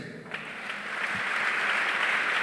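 A church congregation claps together in acclamation of Jesus, the applause swelling quickly from scattered claps into a dense, sustained roar of many hands.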